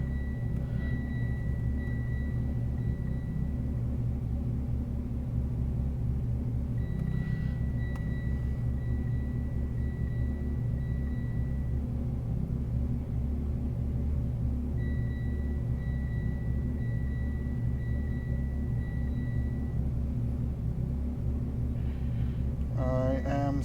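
Turbocharged Mitsubishi Evo X with a GTX3584RS turbo, GSC S2 cams, a sleeved block and 2150 injectors idling steadily during tuning, a deep constant rumble with faint tonal whines above it.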